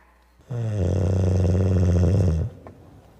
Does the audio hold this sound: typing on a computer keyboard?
no